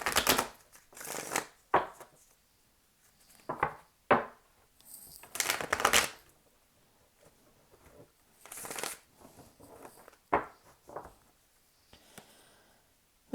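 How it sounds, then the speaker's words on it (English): Tarot cards shuffled by hand in irregular bursts of crisp riffling and patting, close and fairly quiet, with short pauses between shuffles. "I've already pre-shuffled everything, but I like to do a couple more on camera."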